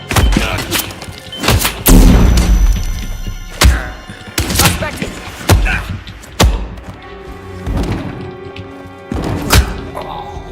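Video game gunfire: heavy thumping shots and booms come in irregular bursts. Some hits are loud and some softer, with a busy background in between.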